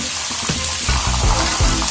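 Peas sizzle and fry steadily in a hot pan, a loud, close, continuous crackle with occasional stirring knocks and no voices.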